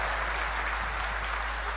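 Loud, sustained clapping fills the hall at a Hyderabad mushaira, many hands beating in an even, crowded wash that stays close and unbroken, with no speech over it.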